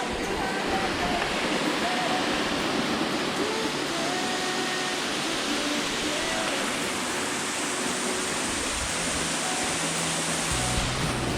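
A waterfall on a Mt. Baldy hike roars as steady, dense rushing water, close and loud, filling the whole stretch without pause.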